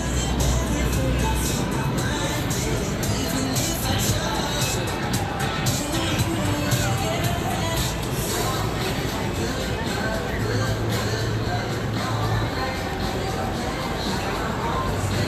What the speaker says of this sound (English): So there's a crowd of people here